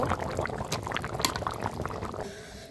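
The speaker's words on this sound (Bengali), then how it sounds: "বাটিতে ঢেলে নিচ্ছি।" Cooked spinach and fish curry with potato is poured from the pot into a bowl outdoors, giving close, bubbling, wet glugging and slopping sounds that fade near the end.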